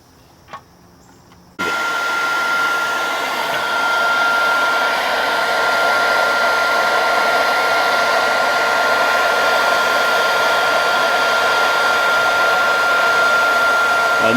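Heat gun heating HDPE plastic for a boat repair, a steady loud blowing whoosh that switches on after a quiet moment and then runs continuously without a break.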